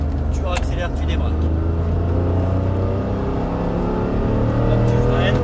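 A 2010 GT3 race car's engine droning loudly and steadily as it pulls through the gears on a circuit, a harsh close rising roar that never lets up, with a person talking over it.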